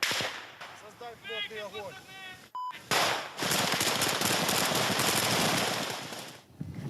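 Heavy gunfire crackles during a Ukrainian counter-attack in a village on the outskirts of Kyiv. Sustained, dense bursts of shots follow a stretch of voices, loud and close, with a brief beep-like tone in between.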